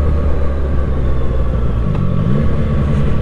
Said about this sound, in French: Ça ronronne, ça ronronne.